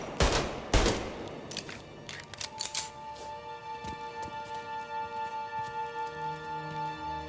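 Gunfire from the video game Mafia Definitive Edition: a few sharp shots and a brief burst near the start, then quieter game ambience with steady sustained tones, no further shooting.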